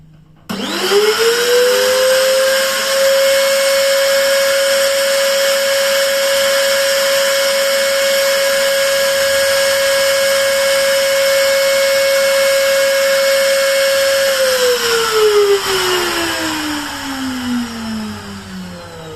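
A DCK KMP04-6 electric trimmer runs at full speed under an RPM speed test, a loud, steady high whine that holds level for about fourteen seconds, then winds down as the motor coasts to a stop.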